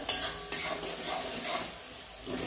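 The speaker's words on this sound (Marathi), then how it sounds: "त्याच्यानंतर आता याच्यामध्ये टाकायचं आहे आपण बटाटा" Potatoes go into hot oil in a pan to fry, giving a couple of sharp clinks at the start and then a steady, moderate sizzle.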